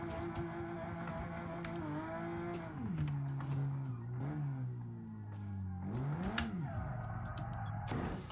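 A car engine revs and drifts in the driving simulator BeamNG.Drive. Its pitch climbs and drops repeatedly through gear changes, with tire squeal and scrapes breaking in, close and fairly loud throughout.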